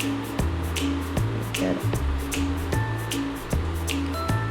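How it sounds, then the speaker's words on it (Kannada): Rice-only neer dosa batter cooking on a hot dosa pan, with repeated soft sizzles and drips, faint clinks of utensils and a steady background hum, close and fairly quiet. "ಕ್ಲೀನಾಗಿ ದೋಸೆ ಹಂಚ ಮೇಲೆ ನೀಟಾಗಿ ಹಾಕಬೇಕು"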